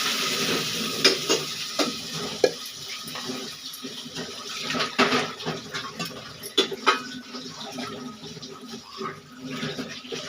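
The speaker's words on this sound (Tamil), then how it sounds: "அவிச்சு வச்சுருக்கோம் இல்லையா பட்டாணியும் உருளைக்கிழங்கையும் போட்டுக்கலாம்" Boiled peas and potatoes sizzle and scrape in a frying pan as they are stirred, with irregular clinks and rustles over a steady frying hiss.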